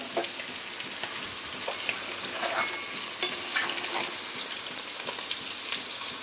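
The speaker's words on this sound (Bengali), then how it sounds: "আর এদিকে মাছ ভাজা বসিয়ে দিয়েছি" Fish sizzles as it fries in a pan, a steady close crackle and spatter with no one speaking.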